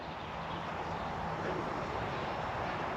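A VolantexRC Trainstar RC trainer plane flies overhead, its electric motor a steady, moderately distant buzzing drone that holds evenly throughout.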